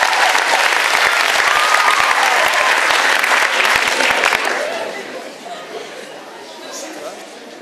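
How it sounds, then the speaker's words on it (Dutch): Warm audience applause for a flamenco guitarist and a pianist, lively clapping with some cheering and chatter from the crowd, then fading into quieter room noise with murmuring. "Dus geef ze een hartelijk applaus"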